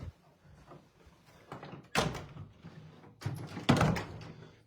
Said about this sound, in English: We're going to close this door.